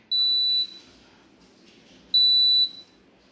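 An Arduino-controlled electronic buzzer alarm sounds two loud, shrill half-second beeps about two seconds apart, with a quiet hum between them.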